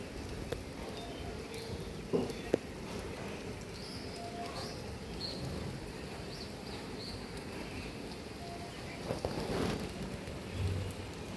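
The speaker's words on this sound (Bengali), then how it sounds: "এখন আবার অনেক বেশি বৃষ্টি পড়তেছে।" Heavy rain pours steadily as a dense, continuous wash of noise that fills the whole scene, with a few faint bird calls and brief knocks rising over the constant downpour.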